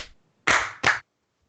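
Two sharp, loud hand claps a fraction of a second apart, close up, used as a sync check for a podcast recording, with a faint voice trailing off just before.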